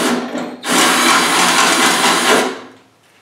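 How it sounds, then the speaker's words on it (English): A welder tack welds a nut onto the core support brace of a 1987 Oldsmobile 442 G-body. A loud, close, steady crackling hiss runs for about two seconds, then cuts off and fades. "and I can tack a nut on the back side."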